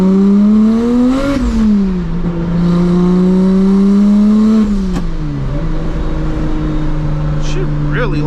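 A 700 WHP single-turbo BMW 335i drives under load, its engine note climbing as it accelerates, dropping off, then pulling up again, loud and close from inside the cabin with a steady drone throughout.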